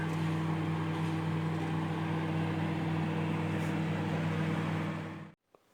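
A kitchen oven cooking bread pizza gives off a steady, even hum with a constant low drone for about five seconds, then cuts off abruptly, followed by a brief click.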